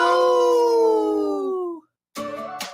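Wolves howl in a radio ad, one long clear drawn-out howl gliding slightly downward, then a short pause before a second shorter howl begins, loud and close with no voices.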